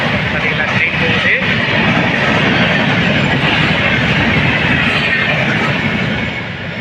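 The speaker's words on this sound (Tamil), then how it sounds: "பார்த்தீங்களா, ட்ரெயின் போகுது." A train rolling past near Manavur railway station, its steady broadband rumble loud and close throughout, easing slightly at the end, with no talk over it.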